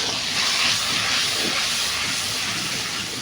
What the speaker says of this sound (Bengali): এবার গরম তেলে মশলাগুলো দিয়ে দিয়েছি।